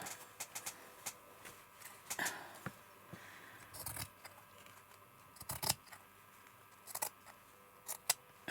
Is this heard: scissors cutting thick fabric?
yes